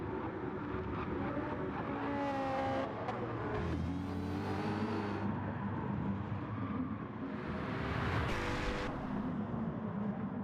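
A Ford GT built up as a Group 3 race car screams through a video game race, its engine rising and falling through gear changes, close and loud with no one talking.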